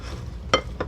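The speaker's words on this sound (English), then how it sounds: "Stir it up in there a little bit." Chicken and vegetables sizzle in a pan while a utensil stirs them, giving a few short scraping clatters over the steady low frying hiss.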